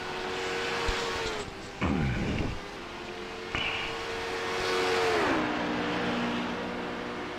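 LMP2 prototype race cars in iRacing at Le Mans' Circuit de la Sarthe accelerating out of the pit lane, engines rising and shifting through gears, with a sharp high whine cutting in briefly and a steady loud drone throughout.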